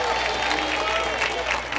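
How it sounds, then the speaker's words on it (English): Game-show studio audience applauding and cheering for the announcer, a dense, steady roar of clapping with crowd noise and a voice talking over it throughout. "Give him a round of applause,"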